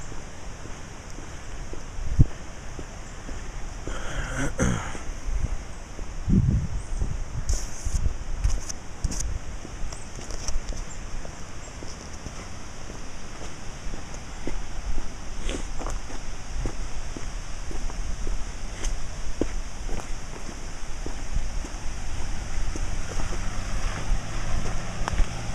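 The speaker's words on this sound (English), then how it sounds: "Another gust" Wind gusts rustling scattered debris in the aftermath of a tropical storm, a continuous outdoor wash of wind noise and rustling with occasional louder gusts, scuffs and knocks, fairly close to the microphone.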